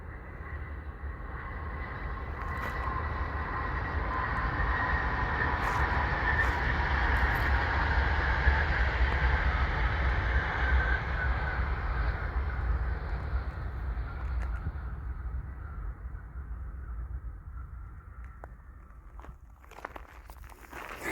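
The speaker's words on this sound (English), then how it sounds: "It looks like a high-speed train." A high-speed train rushes past at a distance on the Camino de Santiago route in Spain, a broad rumbling roar swelling and fading over about twenty seconds, with a few faint clicks near the end.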